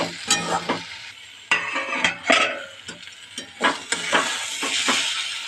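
Fenugreek greens and green peas being stirred in a wok, with a spatula scraping and clattering in irregular bursts over a steady close sizzle.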